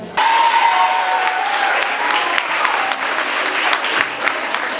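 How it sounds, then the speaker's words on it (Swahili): A room of Form 4 students at a school retreat bursts into sustained, dense clapping that holds steady and fairly close for several seconds, with a faint voice drawn out over it. "Makofi mazuri"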